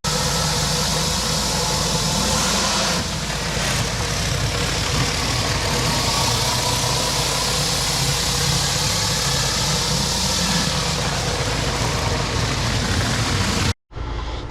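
A mini Mondu pressure washer engine drones loudly and continuously with a steady rumbling hum and spray hiss, briefly cutting out near the end before resuming.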